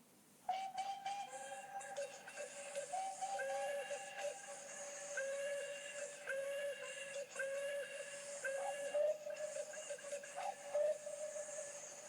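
High steam whistles sound repeatedly in shrill bursts over a hissing background, overlapping one another, fairly distant and moderately loud; no clear cheering stands out.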